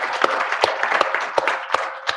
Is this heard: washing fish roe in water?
no